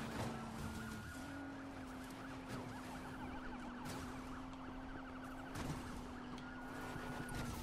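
A police siren wails steadily through a busy Need for Speed Payback game soundscape, with engine and traffic noise filling the background.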